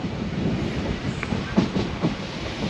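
The Goa Express passenger train rolls along with a steady rumbling roar and faint rhythmic wheel clatter, heard close and continuous without any talk.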